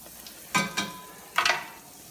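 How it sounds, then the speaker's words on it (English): Chopped onion sautéing in a pan for eggs, with a couple of bursts of stirring and hissing over a faint, steady background sizzle, close and moderately loud, no voices. "saute a little onion. Onion. Get that going."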